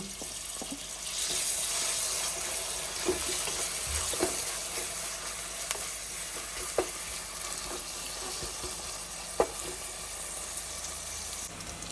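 Tomato frying in a pan, a steady soft sizzle running throughout with a few light clicks of a utensil against the pan; no voices.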